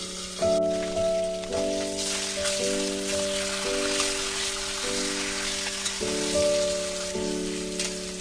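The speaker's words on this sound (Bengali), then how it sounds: "এটা ঢাকা দিয়ে দিয়ে ভেজে নেব, না তো খুব ছিটকাবে।" A fish head fries in oil in a covered pan, a steady, rain-like sizzle with light spatter running beneath a sustained tonal melody.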